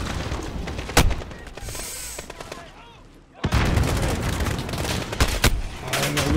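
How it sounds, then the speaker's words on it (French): Gunfire and explosions in Call of Duty Modern Warfare during an embassy mission, sharp loud bursts and a heavy blast after a short lull, with dense battle noise continuing. "Grenade."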